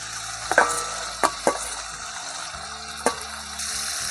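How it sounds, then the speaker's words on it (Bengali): Spice paste with fried potatoes being sautéed in a pan for a pakal fish dish, giving a low steady sizzle broken by a few sharp scraping stirs of the spoon, close and without talk. "আর সামান্য একটু জল দিয়ে আমি ভালোভাবে এবার কষিয়ে নেব।"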